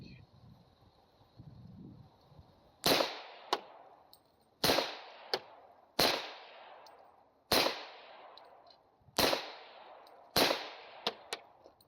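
Seven Taurus TH40 pistol shots fire at a measured pace outdoors, each a loud sharp crack with a short fading tail and a faint metallic ping after, with a voice speaking quietly before the first.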